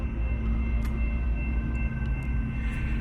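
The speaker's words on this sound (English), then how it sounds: "we've got a locomotive going through here" A locomotive rumbles through near Toronto station along the West Toronto Railpath, a steady low diesel drone with a constant hum, continuous and moderately loud over the whole stretch, with no one talking.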